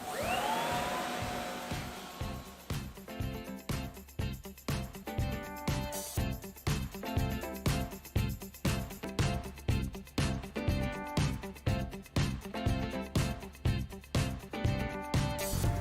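A CT30 floor scrubber runs while cleaning, a steady loud motor whine with a brush churning in a regular pulsing rhythm, continuing throughout with no voices.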